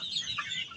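A matured gamefowl rooster clucks several times in quick, short bursts, close and fairly loud, with no talking.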